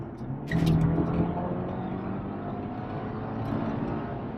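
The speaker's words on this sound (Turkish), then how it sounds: "Şöyle hızım 80 civarı. Bir gaza basayım." A tuned BMW G20 320i accelerates from about 80 km/h on a flat road, its engine note building steadily from inside the cabin, loud and continuous.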